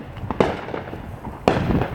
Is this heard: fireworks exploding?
yes